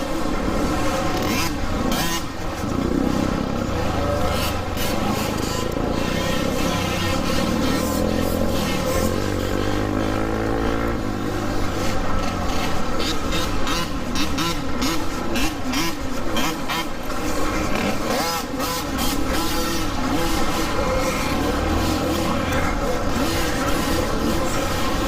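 A Segway X160 electric dirt bike rides over choppy ground on an indoor dirt track, giving a loud, close, continuous whine and rumble with rattling bumps throughout.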